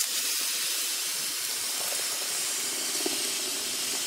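Blended tomato poured into a pan of softened fried onion for fava bean and nopal soup, giving a steady, loud sizzling hiss that holds throughout with no talking.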